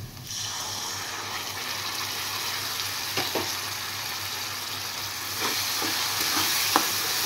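Spices frying with whisked yogurt in a pan for bhindi (okra) give a steady close sizzle throughout, with a few soft scraping stirs partway through and no talking.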